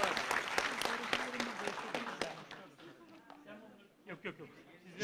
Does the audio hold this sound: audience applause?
yes